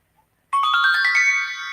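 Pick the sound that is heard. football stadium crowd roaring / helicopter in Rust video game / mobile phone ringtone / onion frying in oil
mobile phone ringtone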